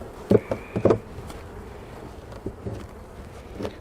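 Angry honeybees buzz around an opened hive at night, several sharp close buzzes of individual bees darting past in the first second, then fainter intermittent buzzing over a low background hum.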